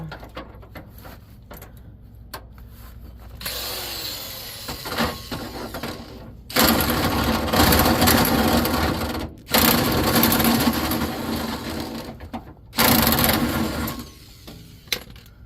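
A tool tightens suspension parts on a 1997 Dodge Ram Van B2500, loud mechanical buzzing bursts of a few seconds each, separated by short pauses, close by.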